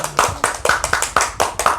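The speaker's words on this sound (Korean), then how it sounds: "하나님께 감사와 영광의 박수 드립시다." A church congregation claps together in a quick, rhythmic burst of about eight loud, even claps packed into under two seconds.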